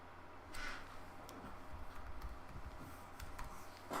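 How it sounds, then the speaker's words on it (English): Quiet typing on a computer keyboard, with scattered soft key clicks and taps against a faint background hum. "this is all just a lot of typing noises"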